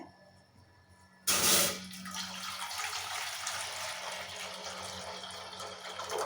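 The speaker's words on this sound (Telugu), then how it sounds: "దీనిలో వాటర్ పోసుకోవాలి" Water pours into a pot sitting on a stove, starting with a sudden loud splash and then settling into a steady, rushing stream that continues to the end with no talking.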